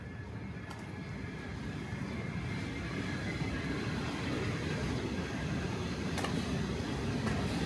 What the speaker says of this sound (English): You can hear the train going by us on the other side of these homes.